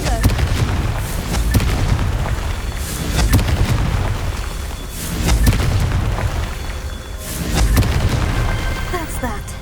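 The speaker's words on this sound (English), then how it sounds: "Confringo." Booming blasts from the Confringo fire spell in the Hogwarts Legacy video game, several loud rumbling explosions at intervals over a continuous heavy roar.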